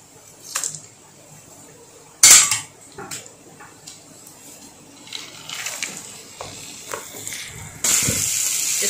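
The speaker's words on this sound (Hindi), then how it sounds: "इसको अच्छे तरीके से मिक्स कर लेने हैं दाल को मसाले के साथ।" Dal being stirred into fried masala with coriander and green chillies in a metal pan, giving irregular clanks and scrapes of a spoon against the pan, with a loud clatter and a brief gush of water, close by.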